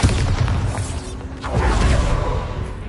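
A Bombarda spell goes off in Hogwarts Legacy with a loud, deep booming blast that rumbles on. A second heavy surge of impact follows about halfway through, and no one talks.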